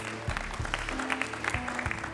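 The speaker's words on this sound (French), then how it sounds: "Applaudissements s'il vous plaît pour Cryovac." A crowd at a packaging innovation awards ceremony in France claps for an award-winning company. The applause is short, steady and moderately loud, with a faint hum beneath it.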